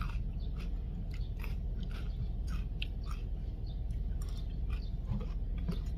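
Close, steady chewing and biting of a sour pounded green plum salad outdoors in South Korea, with a run of small crunchy, wet bites over a constant low background rumble and no talking.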